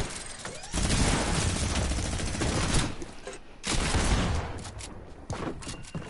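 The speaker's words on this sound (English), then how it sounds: "And Joe has a minigun." A minigun firing in Fortnite, sustained dense bursts of rapid shots in about three long stretches with short gaps between them, loud and close, with no talk over it.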